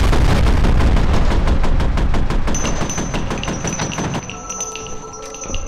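Automatic gunfire in the video game F.E.A.R., a long rapid burst of evenly spaced loud shots lasting several seconds, then fading into ringing, echoing debris sounds.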